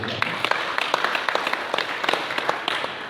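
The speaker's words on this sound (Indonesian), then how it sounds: "Tepuk tangan dulu." Crowd applause, dense and steady clapping from many hands, fairly close, with some voices mixed in.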